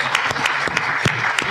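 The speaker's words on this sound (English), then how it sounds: "Give her a round of applause." Brief applause from a public event audience, a dense patter of claps at steady level, with a voice faintly audible underneath.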